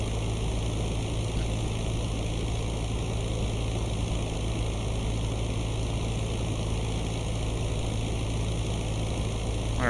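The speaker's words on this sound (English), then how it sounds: "Got enemy aircraft above us." Enemy aircraft engines drone steadily overhead in the IL-2 Great Battles combat flight game, a continuous loud propeller hum with a strong low rumble and no gaps through the whole stretch.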